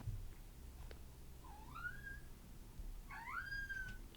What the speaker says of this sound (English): Sorry if you can hear one of my cats.